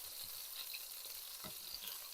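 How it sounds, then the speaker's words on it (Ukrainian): Steady, quiet sizzling of a burger patty frying in a pan, a continuous crackling hiss with a few soft bumps. "Смажимо до готовності та збираємо наші бургери."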